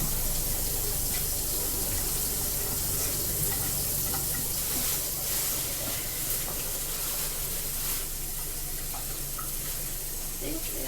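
Tap water runs steadily into a cooking pot for several seconds, a continuous splashing hiss at moderate level with no talking over it.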